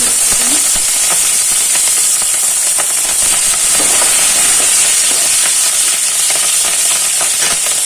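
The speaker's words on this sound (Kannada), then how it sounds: "ಇದಿಷ್ಟು ಹಾಕಿ ಗೋಲ್ಡನ್ ಫ್ರೈ ಆಗಬೇಕು ಕಡಲೆಬೇಳೆ ಉದ್ದಿನಬೇಳೆ ಅಲ್ಲಿವರೆಗೂ ಸಾಸಿವೆ ಸಿಡಿದು ಮತ್ತು ಜೀರಿಗೆ ಕೂಡ ಸಿಡಿಬೇಕು" Chana dal, urad dal, mustard seeds and cumin seeds frying in hot oil for tomato chitranna, a steady dense sizzle and hiss with scattered crackles and pops, close and continuous with no talking.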